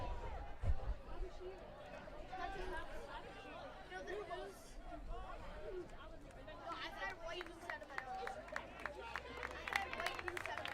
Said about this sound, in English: the Irondequoit fans coming over here tonight, you hear their applause